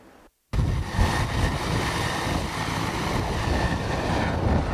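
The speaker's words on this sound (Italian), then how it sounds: "Si alza in volo l'elicottero dei carabinieri chiamato da Belluno per perlustrare dall'alto il territorio trevigiano." A Carabinieri helicopter lifts off after a brief quiet moment, its loud, continuous rotor and engine roar filling the whole stretch close by.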